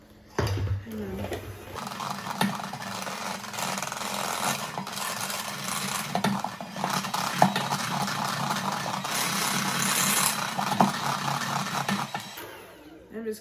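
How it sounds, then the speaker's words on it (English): A mixer whirs steadily through pumpkin cookie batter as the last of the flour is worked in, a continuous motorized drone with slight wavering that starts abruptly, holds for several seconds and then cuts off. "just mixing the last of the batter, or the last of the flour"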